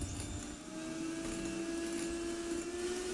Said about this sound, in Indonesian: Selanjutnya kocok dengan menggunakan mixer mulai dari kecepatan rendah, bertahap ke kecepatan tinggi.